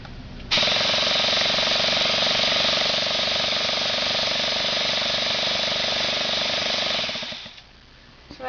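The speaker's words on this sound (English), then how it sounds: "we're going to prime the engine, and it'll get the lubricant to circulate through the whole engine" A car engine being primed to circulate lubricant gives a loud, steady mechanical drone that starts abruptly, holds for about seven seconds, then winds down and cuts off.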